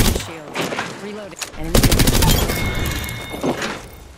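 Rapid automatic gunfire rattles in a video game, with a long, loud continuous burst following a few sharper shots. A voice talks over the start.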